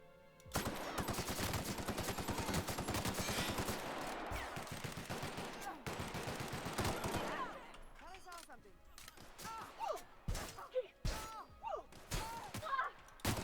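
Loud rapid automatic gunfire in The Outer Worlds, a steady stream of shots for about seven seconds, then scattered single shots and impacts with voices speaking.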